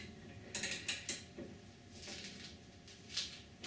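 A bolt is loosened with a ratchet on a Yamaha Vino 125 scooter, a few close, sharp clicks and metallic scrapes in short bursts over quiet background noise.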